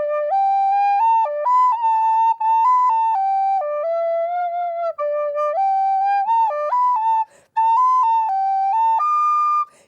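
A wind instrument plays a run of sustained notes slurred smoothly together without tonguing, one bright clear tone gliding between pitches with only short breaks.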